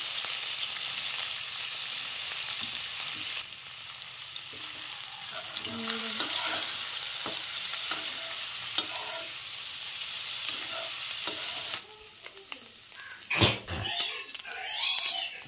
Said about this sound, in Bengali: এই যে ভাজা হয়ে গেছে, হালকা করে ভেজেছি